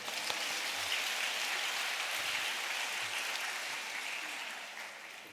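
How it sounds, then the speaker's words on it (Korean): A church congregation claps together in a dense, rain-like patter of many hands, steady and moderately loud, gradually thinning out toward the end. "여기서 박수."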